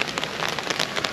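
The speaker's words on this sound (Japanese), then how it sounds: "急に強い雨が降ってきちゃいました。" Sudden heavy rain shower pours down in Yoyogi Park, a dense, loud, continuous patter of drops striking the ground and surfaces nearby, with no talking.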